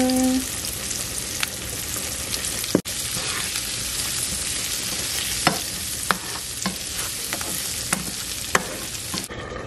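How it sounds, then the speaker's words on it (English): Brussels sprouts sautéing in oil and butter with lemon pepper seasoning, a steady close sizzle and crackle broken by intermittent spatula taps and scrapes against the pan. "I'm going to saute these with some lemon pepper seasoning and some oil and butter at the bottom of the pan"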